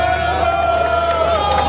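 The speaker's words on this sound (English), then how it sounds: "Oh, listen, the Poles know how to cheer." A crowd cheers at a doorslammer drag racing event in Poland, a loud sustained roar of voices with a steady high tone running through it.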